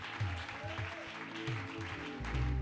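A congregation claps during a church worship service, with uneven bursts of applause over a low musical background that swell near the end.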